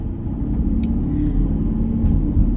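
Porsche Cayenne GTS engine, a low steady rumble from inside the cabin while driving, even and continuous without sharp revving.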